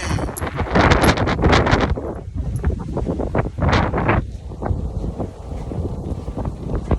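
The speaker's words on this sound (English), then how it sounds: "The wind just started blowing when that shit came in." Wind blows outdoors and buffets the microphone in loud, gusty rumbles that rise and fall across the clip, with a few brief rustling bursts and no voices.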